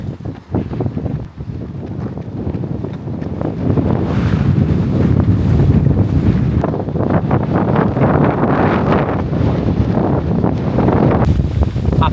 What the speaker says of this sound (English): How's that wind?